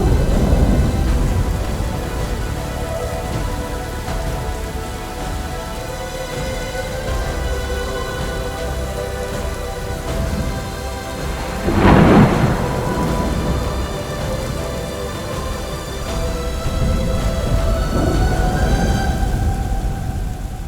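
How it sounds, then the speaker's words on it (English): Simulated thunderstorm inside a rainforest enclosure: steady rain hiss runs throughout, with a loud thunder crack and rumble near the middle and a softer rumble toward the end. "a storm simulation system mimics a real thunderstorm"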